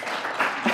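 Audience applause fills a lecture hall, a steady wash of many hands clapping for a recitation leader, loud and continuous with small swells throughout.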